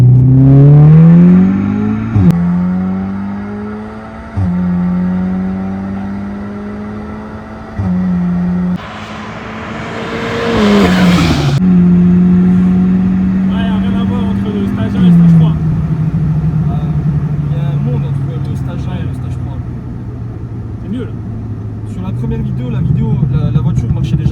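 A Stage 3 tuned Audi S3 8V engine revs and pulls hard through the gears, pitch climbing in repeated sweeps with brief drops at each shift, loud and close.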